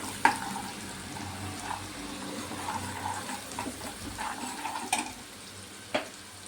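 Beetroot mixture sautéed in a pan with spices, soft scraping and stirring strokes with a couple of sharp utensil clicks over a low, watery sizzle, close and fairly quiet, without talk.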